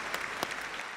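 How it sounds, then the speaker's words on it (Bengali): A studio audience on a Bengali celebrity TV show breaks into loud applause, a dense, even burst of clapping lasting about a second with a couple of sharper peaks. "এর জন্য একটা জোরে হাততালি হোক।"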